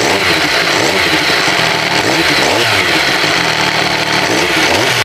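A Benelli TNT899 motorcycle's 898cc inline three-cylinder DOHC four-valve engine idles loudly and close up, a constant throbbing drone with a known rattling clatter, and no voices.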